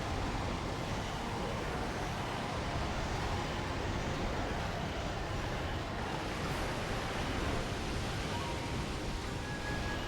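Water waves in the video game Okami HD roll as a steady, dense wash of surf-like noise that holds at an even level throughout, with no talking.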